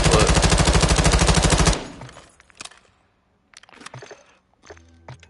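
Rapid automatic gunfire from a gun in the video game MW2, a loud, fast, even burst lasting under two seconds, followed by faint clicks and scattered game sounds.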